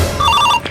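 A telephone rings with a warbling electronic tone in short bursts, fairly close and loud, with no voices.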